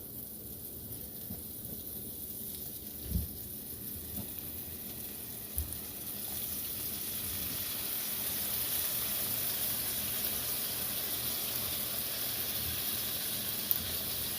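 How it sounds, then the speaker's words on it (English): Steady sizzling hiss of a slab of deer meat frying in butter in a pan, with a few soft clicks and bumps over the continuous crackle. "once you get it to where it's sizzling, start throwing in the slab."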